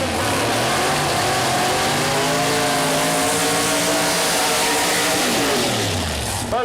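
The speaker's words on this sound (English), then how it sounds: "Both cars complete the burnout across the racing surface" Nitrous Pro Mod drag race cars at Mooresville Dragway roar loudly at high revs, pitch climbing and falling as tires spin, a sustained aggressive burnout with no speech.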